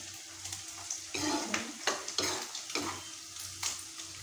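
Pumpkin shoots stir-fried in a pan with mustard paste crackle and hiss as a spatula scrapes and tosses them, giving repeated bursts of sizzling and metallic scraping at close range.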